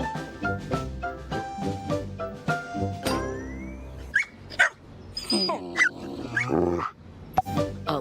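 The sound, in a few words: dog barking in a Subaru Crosstrek advert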